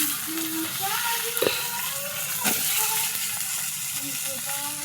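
Vegetables hit hot oil that already holds turmeric powder, giving a steady, close hiss of sizzling with a few faint tonal sounds over it, and no talking.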